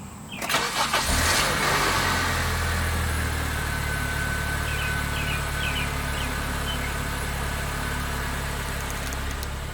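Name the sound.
Honda Civic engine starting and idling after new air filter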